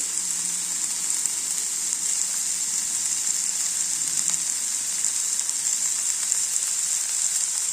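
Spices fry in a pan for jhunka palya, a soft, continuous hiss and sizzle that holds steady and close for several seconds without talk.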